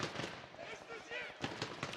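Automatic gunfire sprays in a PUBG Mobile championship match, rapid bursts of shots heard under a caster's commentary, with a sharper cluster of shots near the end.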